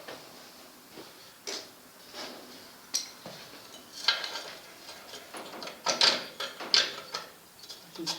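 Metal clamps handled in a workshop before welding a homemade buggy frame: scattered clicks, ratcheting snaps and metallic clanks at irregular intervals, fairly close, with no talking.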